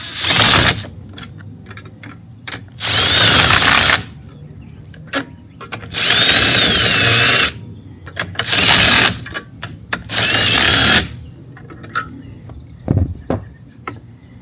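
Power drill driving a 1/2 inch socket while installing a 270° awning on a 2025 vehicle, heard in several loud sustained whirring bursts of one to two seconds each, separated by clicks, knocks and short pauses.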